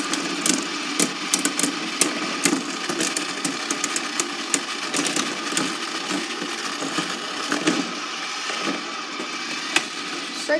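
Beyblade spinning tops clashing in a stadium, rapid sharp metallic clicks and ticks over a continuous whirring hum, with repeated collisions close to the microphone and no talking.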